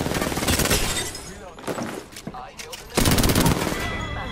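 Heavy, rapid machine-gun fire from a Spitfire in an online shooter game, loud and sustained in bursts with a brief lull before a renewed stretch of dense gunfire.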